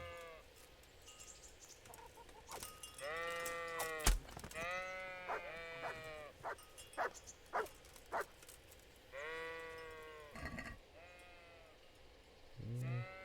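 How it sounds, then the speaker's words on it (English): Sheep in the medieval Bohemian countryside of the video game Kingdom Come: Deliverance bleat repeatedly, several animals calling in overlapping bursts close by, with a sharp thump partway through and no talk. "Mutton would sell for a good bit if we murdered all of these sheep."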